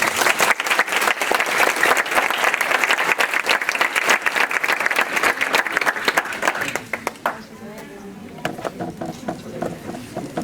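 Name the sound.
audience applause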